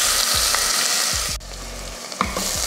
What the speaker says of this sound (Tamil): வெங்காயத்தை நல்லா பொன்னிறமாக வதக்கிக்கலாம்